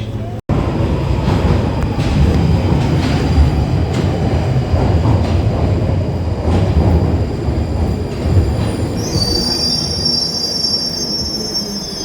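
A London Underground Piccadilly line train runs at speed, loud and close, with a dense rumbling roar of wheels on track. Sharp metallic wheel squeal rises near the end.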